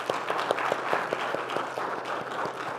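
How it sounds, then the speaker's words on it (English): An audience at a morning session claps steadily for performers, with dense applause and a few sharper individual claps standing out, continuous and moderately close. "please again give a big round of applause for their efforts in practice"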